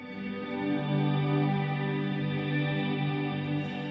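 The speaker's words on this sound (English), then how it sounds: "create ambient guitar drones with your guitar" Electric guitar drone run through a reverb pedal: a sustained, smooth harmonic wash holds steady with gentle swells and no attack or pause, alone throughout.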